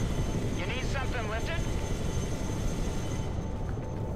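Venom helicopters fly in the Broken Arrow war game, a steady, fairly loud rotor and engine roar that runs continuously under brief chirping effects, with no talk.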